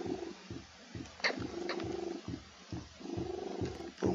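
A cat purrs loudly and close up, a steady rhythmic rumble pulsing roughly twice per second with a few brief higher sounds over it.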